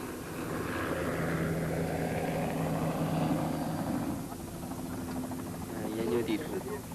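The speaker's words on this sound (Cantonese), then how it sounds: "直升機向正西方飛行咗300公里" A helicopter flies along the Peacock River in 1983, its engine and rotor making a steady, dense drone that continues under spoken narration.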